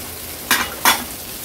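Boiled potatoes sautéed in a spice tempering over a medium flame give a soft, steady sizzle, broken by two quick scraping stirs close by.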